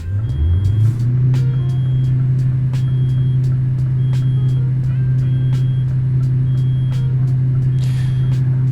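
A truck engine idles in a Truck Simulator video game, producing a loud, steady low drone with layered harmonics throughout, plus faint, sparse high clicks and a brief hiss near the end. No one speaks.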